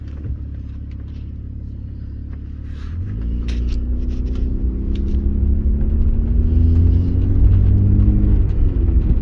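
A 2003 Hyundai Tiburon pulls away on a drive, its engine rumbling steadily and then rising in pitch and loudness as it accelerates, with rising rev tones over a constant low drone and no talking.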